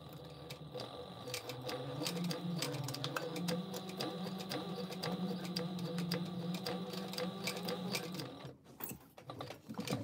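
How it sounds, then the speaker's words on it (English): A sewing machine stitches back and forth on a fabric pouch, a fast steady mechanical whir with rapid needle clatter, pausing briefly near the end before resuming. "I'm just going to stitch this back and forth."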